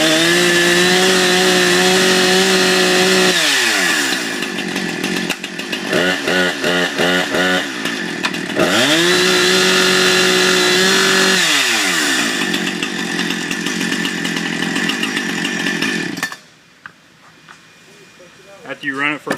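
Chainsaw starts and runs on the ground, loud buzzing engine with revving swells and drops between idle and throttle, then cuts off into quiet at the end.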